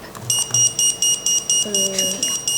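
An electronic buzzer in a quiz competition round sounds as a rapid series of about nine sharp, loud beeps in even rhythm, with a brief lower tone partway through.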